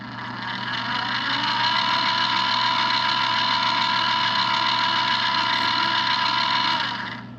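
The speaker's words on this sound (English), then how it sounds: "we've got our inch button, which spins our rollers. Let's go ahead and feed this wire in." The wire feeder of an HTP Freedom 3000 pulse welder runs its rollers on the inch button, feeding wire. A loud, steady motor whine holds for about six seconds, then winds down, close up with no voices.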